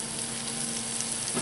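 Carrots, celery, Brussels sprouts, onions and cabbage sizzling in hot bacon grease over medium heat, a steady close crackling fry throughout, no voices.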